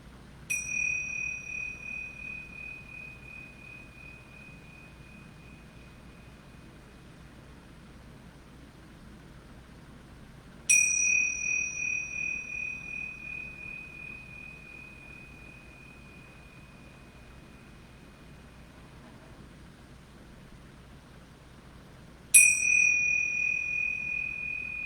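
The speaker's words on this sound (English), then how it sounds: "Ringing the bells 3 times." A bell struck three times in a quiet yoga room, each ring a clear bright tone that slowly fades over about ten seconds before the next strike.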